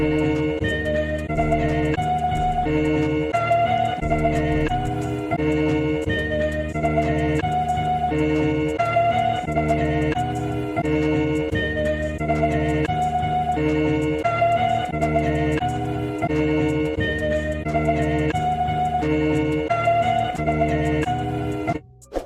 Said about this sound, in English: as you can see, I came up with this melody progression